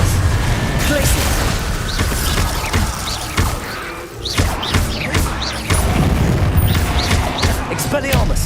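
Hogwarts Legacy spell duel with Incendio, Expelliarmus and Glacius casts, loud thumping impacts, booms and mechanical clatter layered over busy combat noise, with shouted voices throughout.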